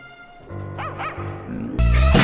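A dog in an animated Grinch film yips and whimpers in a series of short, close, pitched barks, ending in one louder bark over a burst of background music.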